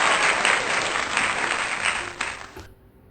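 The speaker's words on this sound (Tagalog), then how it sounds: "So, isang palakpak ulit." Audience applause in a Philippine talk setting, a dense steady wash of clapping from a crowd that holds for about two and a half seconds, then cuts off abruptly to near silence.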